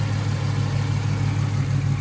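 A Dodge R/T's 6.1 Hemi V8 idles quietly, holding a steady, even low rumble throughout with no voices over it.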